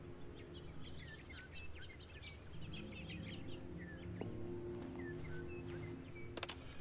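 In The Stanley Parable: Ultra Deluxe, an ambient backdrop of scattered bird chirps and tweets plays faintly over a low hum, with a few soft clicks near the end.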